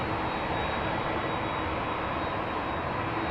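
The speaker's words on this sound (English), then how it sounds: "KLM Flight 1793, Boeing 737-900" A 19-year-old KLM Boeing 737-900 jet at Amsterdam Schiphol gives a continuous, even engine roar with a faint high whine running through it, heard alone.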